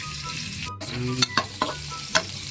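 Garlic frying in hot cooking oil for Filipino giniling, a steady close sizzle with a few sharp clatters of a utensil stirring in the pan, and no talking.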